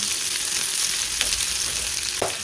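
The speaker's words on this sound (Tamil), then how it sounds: "இப்போ எண்ணெய் நல்லா சூடாகிட்டு அதில் நான் வந்து ரெண்டு பெரிய வெங்காயத்தை இப்படி வெட்டி வச்சுருக்கேன் அதை இதில் சேர்த்துருவோம்" Sliced large onions sautéing in hot sesame oil in a pan, a loud, continuous close sizzle with occasional stirring scrapes and no voices.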